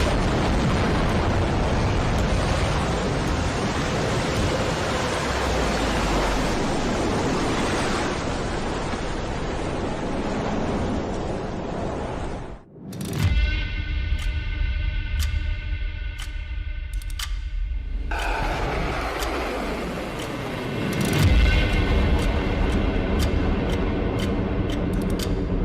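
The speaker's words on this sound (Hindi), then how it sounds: "न्यूक्लियर ब्लास्ट का यह रिप्रेजेंटेटिव वीडियो देख लीजिए।" A representative nuclear blast explosion, a sustained loud roaring rumble for about twelve seconds, then a sudden cut to a brief silence followed by a second deep rolling blast with crackling, and another surge of roaring near the end.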